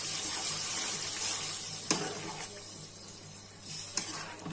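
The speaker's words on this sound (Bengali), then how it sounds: "এখন হালকা একটু ঝোল দিয়ে দিচ্ছি" Liquid poured into a pan of tomato and potato curry frying with fish, a steady broad sizzle and hiss throughout, with two brief sharp clinks of a utensil against the pan.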